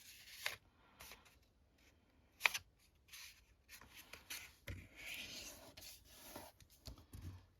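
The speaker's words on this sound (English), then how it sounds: "Give that a good burnish." Folded paper envelope being burnished by hand for a junk journal, quiet intermittent rubbing and scraping strokes with a few sharper taps and scuffs, close and soft with no talking.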